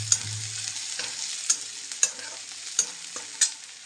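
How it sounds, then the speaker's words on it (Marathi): Egg mixture sautéing in oil for an egg chutney, a steady sizzle broken by sharp scrapes and clacks of a spatula against the pan roughly every half second to second, close and fairly loud with no voices. "चांगलं लाल होईपर्यंत पहा असं परतून घ्यायचं आहे."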